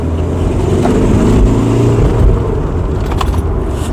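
Steady engine rumble of a car driving on a bumpy road, loud and close, with a low road drone and slight variations throughout.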